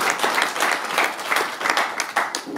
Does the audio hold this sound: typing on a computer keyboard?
no